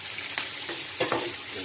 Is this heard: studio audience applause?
no